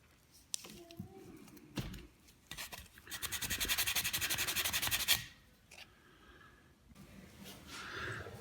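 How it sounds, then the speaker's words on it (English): Sandpaper, 120 then 220 grit, rubs along the seams of a plastic toy Leia blaster, with a fast rhythmic back-and-forth scrubbing burst in the middle and lighter scattered scratches around it, close up. "Very easy to sand that off."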